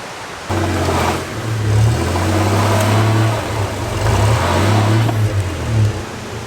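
A 1990s 4x4 truck drives and slides through sloppy mud near a ditch, its engine droning and revving steadily and close, with no speech.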